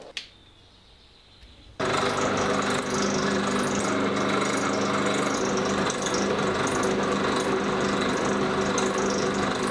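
After a quiet start with a brief click, a loud motorized whir starts up and runs steadily without pause.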